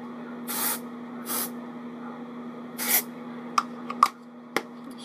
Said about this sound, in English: Just dry shampoo.